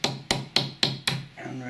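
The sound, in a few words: hammering a metal brooch held in a vise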